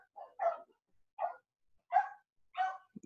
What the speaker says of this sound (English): You hear my puppy back there?